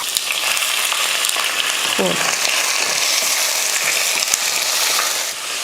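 Chopped onion and about half a kilo of chicken fry loudly in a hot pan with curry leaves, a steady close sizzle running the whole way with a brief stir partway through.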